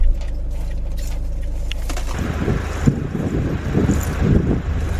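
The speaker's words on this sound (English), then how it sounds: "It's very windy, very cold" Strong cold wind buffets the outside of a van on a winter night in Yorkshire, a loud roaring rumble with gusty bursts and microphone buffeting, continuous throughout with no talk.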